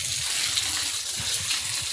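Water gushing and splashing onto freshly laid civil construction work, a steady close pour with no speech.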